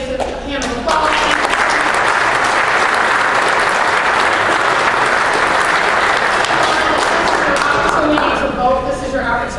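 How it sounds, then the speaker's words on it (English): Sustained applause from the audience at a congressional district candidate forum in Peotone, a dense, loud wash of clapping that holds steady for the whole stretch before tapering slightly at the end. "So can we again give our candidates a hand of applause?"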